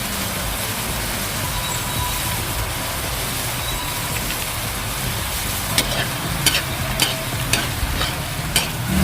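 Oyster sauce is stir-fried in a hot pan, giving a steady broadband sizzle with a run of sharp spatula scrapes and clacks toward the end, close and fairly loud, no voices.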